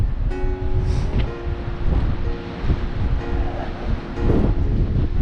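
Storm wind gusting hard over a loch shore where a river meets it, with waves breaking throughout; loud, continuous roaring buffets from close by with no talking.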